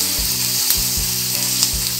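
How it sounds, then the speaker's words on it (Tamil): Tamarind sautéing in a pan with ridge gourd peel gives a loud, steady frying sizzle, broken by a few soft stirring scrapes. "நம்ம புளியை லேசாக அப்படி வதக்கிட்டு"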